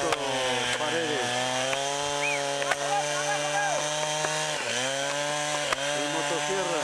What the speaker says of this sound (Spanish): El motosierra